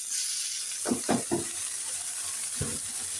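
Bottle gourd greens drop into hot oil with fried garlic and onion, giving a few sharp crackling bursts over a steady background sizzle.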